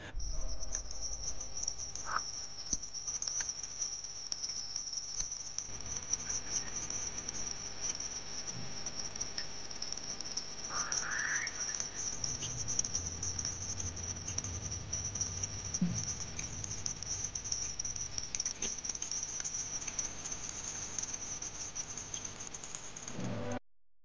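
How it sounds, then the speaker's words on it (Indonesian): Voyager 1's plasma wave recording of Jupiter, made while crossing the planet's bow shock, sounds like an eerie high, shrill whistle held over faint crackles, patters and low rumbles, continuous with no voices. "Suara ini terekam ketika Voyager 1 mendekati planet tersebut dan melintasi gelombang kejut haluan Jupiter."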